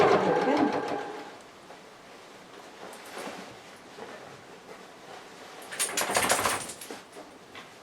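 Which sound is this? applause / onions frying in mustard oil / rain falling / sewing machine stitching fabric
sewing machine stitching fabric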